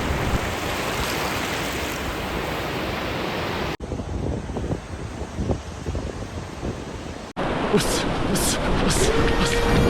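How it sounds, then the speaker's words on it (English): Surf rolls onto a winter beach in Kamakura, Japan, as a continuous wash of breaking waves with heavy wind buffeting the microphone, broken into several abrupt cuts with brief voices. "We made it to the beach in Kamakura"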